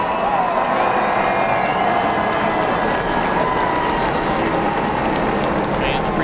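Dense, steady roar of a NASCAR Xfinity Series crowd at Pocono Raceway cheering and applauding as race winner Austin Cindric climbs out to celebrate, a continuous loud wash of noise with no pauses.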